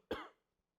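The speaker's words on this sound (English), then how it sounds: "sorry for my coughing today." A single short, sharp cough from an adult, close to the microphone, followed by quiet.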